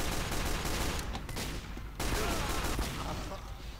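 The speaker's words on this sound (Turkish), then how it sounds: "Görün ki taramalı silah kullanalım." Rapid machine gun fire from the Team Fortress 2 video game rattles in dense continuous bursts, loud and close, with a brief pause near the middle before firing resumes.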